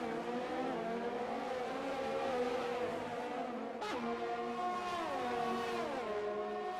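A Ferrari race car engine in a Formula racing game at the Canadian Grand Prix screams at high revs, with a steady, close, loud tone that holds and then shifts down through gear changes.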